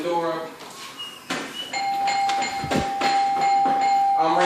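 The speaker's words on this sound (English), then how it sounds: "I'm ringing the doorbell." Doorbell chiming indoors during dog leash training at a house door, a clear sustained ding tone ringing out while someone talks over it.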